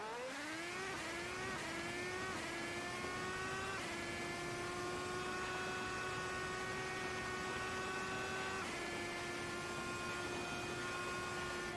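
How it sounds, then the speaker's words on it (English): Car engine on the Nordschleife pulling hard at full throttle in second gear, a steady loud drone with pitch climbing through the revs, easing briefly and rising again, with no talking. "let's just give it a little bit of full throttle down here in second gear"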